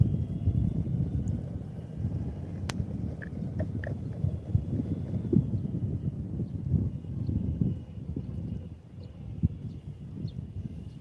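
Wind buffets a microphone outdoors in San Francisco on a humid, windy day, a steady low rumbling roar with gusty surges and faint distant sounds behind it, no talking.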